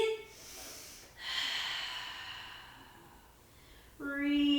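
Deep breaths during a Pilates mat exercise: a soft inhale, then a long, airy exhale, ending with a brief voiced sound, all quiet and close.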